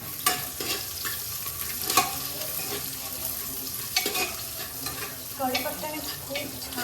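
Curry leaves, green chili and onion sizzle in hot oil in a pan, stirred several times with sharp scrapes and clinks of a utensil against the pan over a steady frying hiss.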